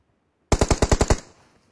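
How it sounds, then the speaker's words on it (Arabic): Automatic gunfire in a shooter video game, heard as one loud close burst of about seven rapid shots. The burst fades into a short echoing tail and is followed by silence. "بلش يطخوا علي"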